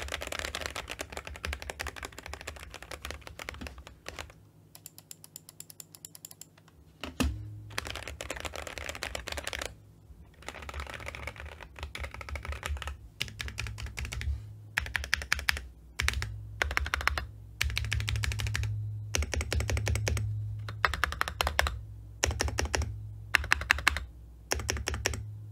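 Fingers type on a custom-built mechanical keyboard, giving rapid clacky keystroke bursts with a brief pause early on, close and clear throughout.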